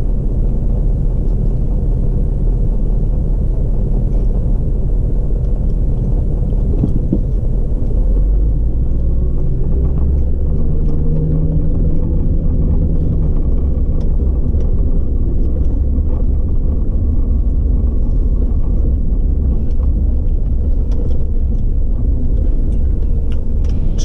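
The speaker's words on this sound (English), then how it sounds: "Two school buses from Pima County Schools." Two Pima County Schools school buses rumble past, a loud, sustained low engine drone that swells and shifts as the vehicles move by close to the listener.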